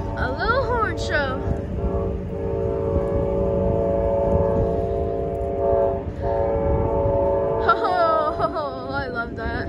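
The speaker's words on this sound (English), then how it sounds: "Giving the rest of Selma a little horn show." An Amtrak heritage unit locomotive sounds its multi-chime horn at Selma in long, loud sustained blasts, with the engine rumbling underneath and a voice talking briefly near the start and end.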